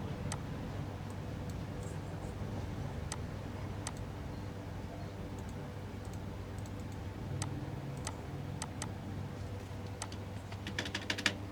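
Sparse light clicks from a computer keyboard while a username is typed, faint and spaced out at first, then gathering into a quicker burst of keystrokes at the end.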